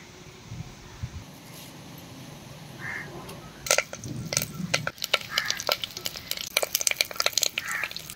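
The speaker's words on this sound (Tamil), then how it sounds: "கருவேப்பிலை வெடிச்சிருச்சு," Curry leaves splutter in hot oil at close range. Quiet at first, then a run of sharp popping crackles and sizzles breaks out in irregular bursts that grow denser toward the end.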